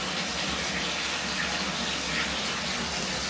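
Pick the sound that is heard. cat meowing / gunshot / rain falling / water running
water running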